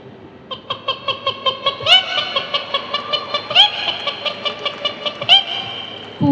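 A young girl's mimicry of a hen clucking: a steady run of short, evenly paced clucks with a few louder squawking accents, close and alone for about six seconds.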